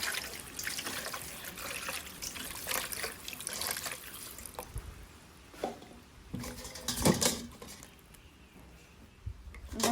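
Cold water is poured over crabs and splashes in uneven bursts, trickling and dripping between pours, close by with no talking.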